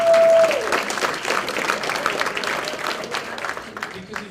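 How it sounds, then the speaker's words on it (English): Audience applause at a youth awards dinner, a steady spread of clapping from the crowd after a short tone at the start, continuing evenly at moderate loudness. "Please feel free to clap for them as well."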